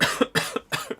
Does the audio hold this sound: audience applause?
no